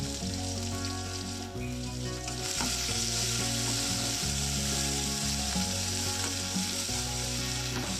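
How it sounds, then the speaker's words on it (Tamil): Sliced onions drop into hot oil with popping fennel seeds and fry with a dense, steady sizzle, stirred now and then, close and unbroken by any voice. "சோம்பு பொரிஞ்சதும் வெங்காயம் போட்டுக்கிறோம்."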